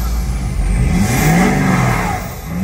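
A parked show truck at a large Texas truck meet, fitted with a turbo and showing only 7,000 miles, is revved up close, its engine note climbing and holding steady with a faint whistle on top.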